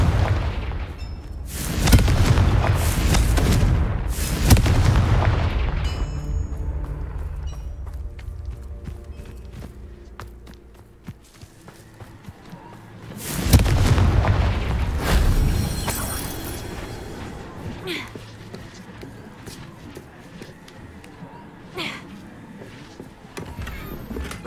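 Confringo fire spells from Hogwarts Legacy blast out as booming explosions, a loud pair early on and another big burst midway, each rumbling and fading away.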